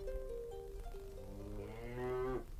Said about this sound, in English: I thought you were going to wash those cattle.